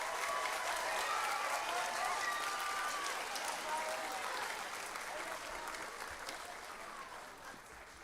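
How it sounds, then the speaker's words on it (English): Sustained applause from a school band concert audience honoring the 5th and 7th grade soloists, dense steady clapping with scattered cheers and voices, holding strong before tapering slightly near the end. "how about a nice round of applause for those soloists?"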